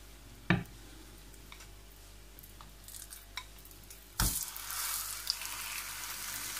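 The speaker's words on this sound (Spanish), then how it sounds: "Y la vamos a cocinar a fuego medio, unos minutitos por cada lado." A chicken burger patty sizzles in a pan over medium heat, with a sharp tap near the start and a louder, steady hiss of frying that swells later and holds to the end.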